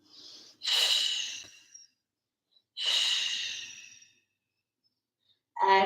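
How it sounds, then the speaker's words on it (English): Deep breaths during a yoga flow class: two long, close airy exhales separated by silence, then the sharp start of another breath at the end, with no talking. "Deep breathing."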